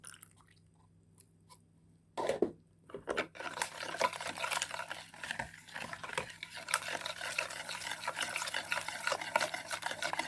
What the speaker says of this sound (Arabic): نحط اللبن